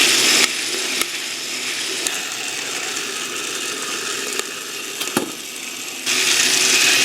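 Motorized Whirley Pop stovetop popper roasting Jamaica Blue Mountain coffee beans, a steady loud mechanical whir with faint sharp cracks popping through at a few moments, no talk.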